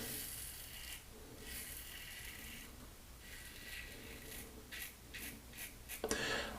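A brass Timeless safety razor scrapes across lathered stubble in light, easy strokes: faint, close rasping bursts that come and go, with a few sharper scratchy strokes near the end.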